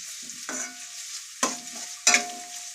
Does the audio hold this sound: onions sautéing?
yes